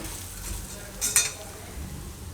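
Semolina and ground mung beans roast in ghee in a pan over a low flame, making a gentle sizzle. A spoon scrapes and stirs, with a brief louder metallic clink midway, close up and with no talk.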